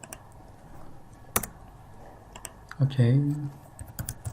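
Scattered keyboard clicks from typing on a computer keyboard, mostly sparse and light, with a brief spoken word partway through.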